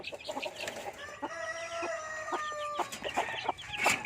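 Native chickens being let out cluck and chatter in a close, busy flock, with overlapping calls and short squawks continuing throughout.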